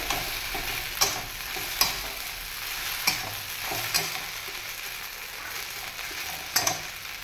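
Sabudana stirred in a frying pan: a steady sizzle with a scraping stroke roughly every second, close by and fairly loud.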